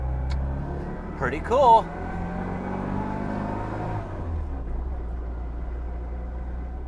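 An Austin Mini Seven with a four-speed Magic Wand gearbox and inboard CV joints drives along, its steady low engine rumble running throughout under brief talk near the start.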